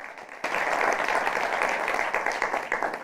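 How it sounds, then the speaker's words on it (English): Audience applause for the Uganda team at the Africa Pachipanda Challenge final, a sudden burst of many hands clapping that starts after a brief quiet moment and carries on steadily, fairly loud, with some crowd voices mixed in. "a round of applause for the Uganda team"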